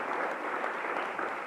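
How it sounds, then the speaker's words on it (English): Steady applause from an audience at a high school hall of fame induction ceremony, honoring a husband-and-wife pair of inductees, with dense continuous clapping that fills the room evenly throughout. "I think that deserves a round of applause."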